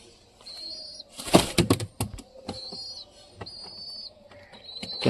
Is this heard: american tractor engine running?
no